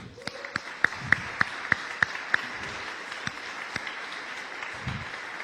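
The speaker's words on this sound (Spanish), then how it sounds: "¿Por qué no le damos un aplauso al Señor?" Scattered applause in a church service, a handful of sharp, evenly spaced claps standing out over a faint background of clapping, fairly close but modest in volume, thinning out toward the end.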